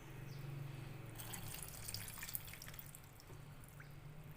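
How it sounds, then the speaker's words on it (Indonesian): Water trickles and drips steadily into a very small rice cooker pot as it is filled to the top, a soft, continuous pouring close by with no talk. "Kemudian kita masukkan airnya. Isi sampai penuh ya."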